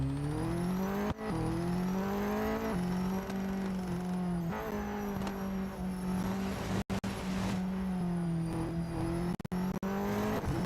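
A race car accelerating at the Nürburgring in the Real Racing 3 video game, its engine holding a sustained high drone with small pitch shifts at gear changes, plus a few sharp glitches.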